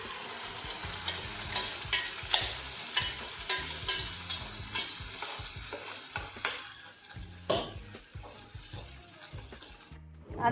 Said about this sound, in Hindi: अब डालती हूँ पालक और इसको अच्छे से पकाऊंगी